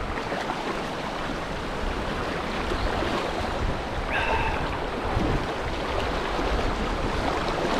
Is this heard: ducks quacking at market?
no